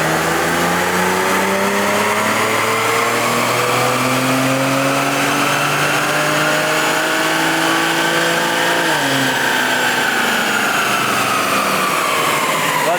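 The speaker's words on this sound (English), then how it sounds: "Let's see what the stock 335i makes here on the dyno." A stock 2008 BMW 335i with the twin-turbo N54 engine pulls hard on a dyno, its loud droning tone rising steadily for about nine seconds, then dipping briefly at a shift before climbing again, with no one talking.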